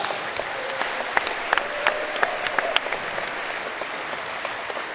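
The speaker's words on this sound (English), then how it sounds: "Big round of applause for Matt." Audience applause at a wallball singles final, a moderate hall-filling patter of many hands with a few sharper individual claps, steady throughout and with no one speaking over it.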